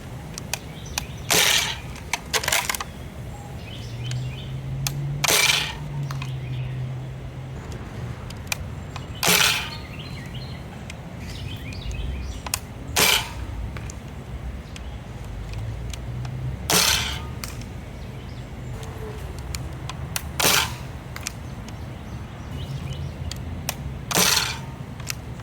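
A modded 1995 crossbow fires darts downrange toward a tree about 90 feet away, giving about nine sharp, separate snapping releases spaced a few seconds apart over a quiet outdoor background with faint low hum, no talk.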